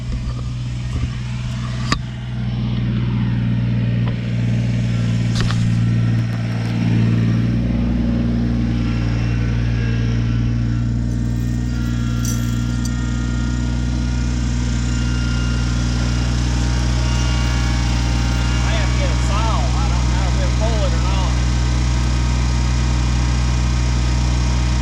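A Kubota BX2380 compact tractor engine runs steadily and loudly while pulling storm debris, a continuous close drone with slight shifts in pitch and no speech.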